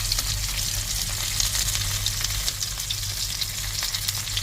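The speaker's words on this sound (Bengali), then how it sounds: "আজকে নতুন অন্য আরেকটি মাছ ভাজতেছি।" Fish frying in a pan, a loud, dense sizzle that crackles steadily throughout, up close, with no voices.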